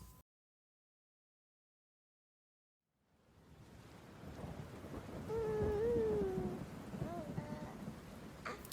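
Steady rain with a low rolling rumble of thunder builds after a few seconds of silence, loud and enveloping, with a faint tonal wail, like a cat, rising through the storm.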